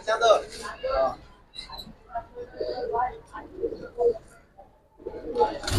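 Giribaz pigeons of a Silver Army and Sabchila variety give soft, intermittent coos between stretches of close conversation, the talk dominating the clip.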